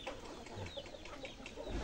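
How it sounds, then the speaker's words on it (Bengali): A rooster and hens cluck in short, faint, scattered calls at a distance, with low background noise throughout and no voices. "এই যে কুকুরুত কুক করছে, কত সুন্দর। মুরগি মোরগ সব।"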